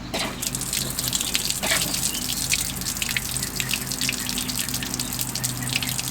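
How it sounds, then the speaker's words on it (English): Water gushes steadily out of an RV's opened low point drain valves during winterizing with compressed air, a close, continuous splashing rush with no talking. "I'm going to open the low points, and you'll see the water come out"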